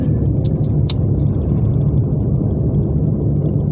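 An old car's engine rumbles steadily from inside the cabin, a loud low drone that continues evenly, with a few short bright clicks near the start.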